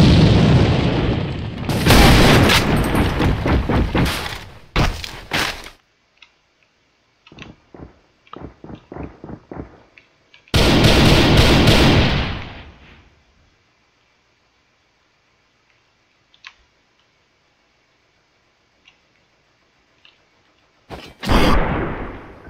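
Grenade explosions in the shooter game AVA during a championship match: several heavy booms with rumbling tails, separated by bursts of smaller pops and long near-silent gaps, with no voices.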